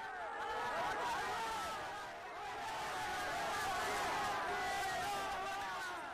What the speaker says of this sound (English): The crowd grows.